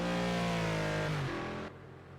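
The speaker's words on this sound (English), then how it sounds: "I can hear another McLaren coming" A McLaren GT3 race car engine roars around Bathurst's Mount Panorama in the Project Cars 2 racing game. The steady, high engine drone slides down in pitch, then drops off abruptly near the end.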